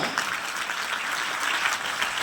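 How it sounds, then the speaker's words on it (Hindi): Steady, enthusiastic applause from a crowd, dense clapping sustained evenly throughout. "जबरदस्त तालियां"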